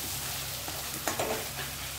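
Chopped tomatoes fry in a pan of hot oil with chicken, giving a loud, continuous dense sizzle and a brief stirring scrape partway through.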